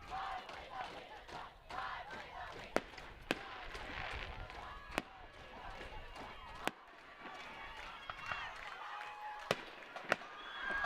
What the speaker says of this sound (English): And some celebratory fireworks.